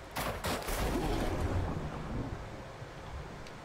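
Rapid SMG gunfire from a video game, a loud sustained burst of shots layered over rumbling water or wave-like ambience, with no talking.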